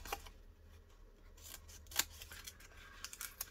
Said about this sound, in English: Cut that section out and cut this section out.